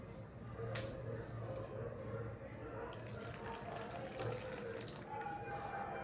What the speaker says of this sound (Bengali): অল্প অল্প জল দিয়ে মাখাই নাহলে পাতলা হয়ে যাবে